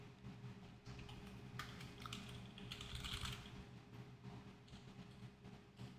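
Typing on a computer keyboard during a coding session: a fast, steady run of soft key clicks, close and quiet, over a constant low background hum.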